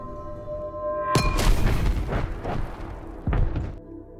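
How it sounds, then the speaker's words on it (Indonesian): A truck veers off the road, plunges into a ravine and blows up in an action film: a sudden sharp crash opens into a long rumbling roar, then a second heavy blast follows before it cuts off, with no talk. "truknya oleng sampai terperosok ke jurang hingga terjadi ledakan besar"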